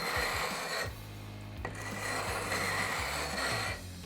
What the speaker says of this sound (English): you need to sand down the edges to where they meet the wood